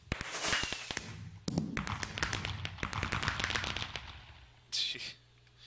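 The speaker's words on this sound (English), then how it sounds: "And we now have fireworks going off." Fireworks crackle and pop in modded Minecraft, a rapid series of sharp bangs and snaps that burst densely and then thin out into scattered reports.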